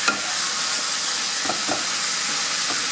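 Seasoned meat for carne guisada, dusted with garlic powder, sizzles steadily in a hot pan while a few soft stirring scrapes break through the constant hiss.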